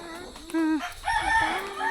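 A rooster crows nearby, a short drawn-out call, with other chickens clucking and faint background noise.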